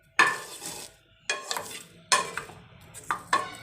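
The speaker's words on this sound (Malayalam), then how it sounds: "കറിവേപ്പിലയൊക്കെ ഏകദേശം ഒന്ന് മൂത്ത് തുടങ്ങിയിട്ടുണ്ട്. നമുക്കിനി കുറച്ചും കൂടെ ഒന്ന് ഫ്രൈ ആക്കി എടുക്കണം." Curry leaves fry in oil while a spatula stirs them in four distinct scraping bursts against the pan, separated by brief quieter gaps with a faint sizzle.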